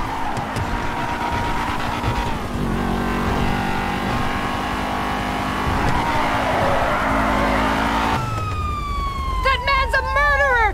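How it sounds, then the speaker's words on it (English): Police car chase in Grand Theft Auto V, with engines revving loud and steady, tires skidding, and a police siren wailing in rising and falling sweeps near the end, under occasional shouted talk. "Pull over now, Miss Schultz!"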